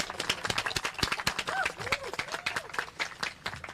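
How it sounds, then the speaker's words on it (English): Audience applause at an outdoor Earth Day climate event in California: dense, steady clapping fills the whole stretch, with a few voices and whoops rising through the crowd. "Let's give her another round of applause."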